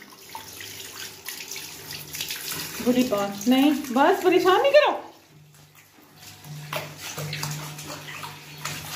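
Water pours and splashes steadily over a dog during a bath, running like a tap into a tub, with people talking over it and a short quieter stretch midway.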